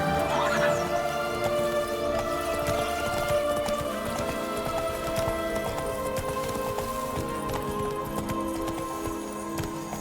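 Roach, Geralt's horse in the video game The Witcher 3: Blood and Wine, gallops in a fast rhythmic clip-clop of hooves under game music, with a brief voice speaking over it.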